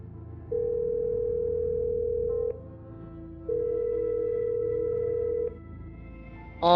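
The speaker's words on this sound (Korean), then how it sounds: "신호 대기음이 그렇게 길게 느껴진 건 그때가 처음이었죠" A mobile phone call to a friend produces a ringback tone: two long, steady electronic beeps, each about two seconds, separated by a quiet gap, followed by a brief burst at the end.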